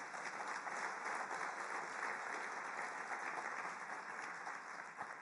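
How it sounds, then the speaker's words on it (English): Sustained applause from an audience at a UN Refugee Agency event, dense and steady clapping filling the room at fairly even loudness for several seconds, with no voices over it. "Big applause."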